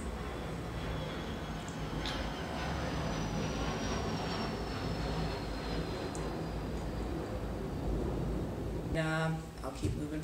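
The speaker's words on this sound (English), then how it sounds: "Plane pause." Airplane drones overhead as a steady, broad rumble filling the whole stretch, moderately loud and unbroken, with a brief voice near the end.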